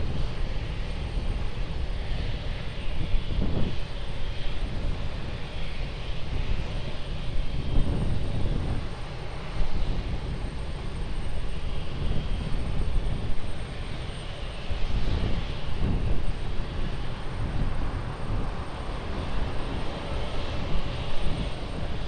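A fixed-wing airliner takes off from runway 20 at Lisbon Airport, its engines producing a loud, continuous broadband roar that holds steady throughout with slight swells, heard from a distance.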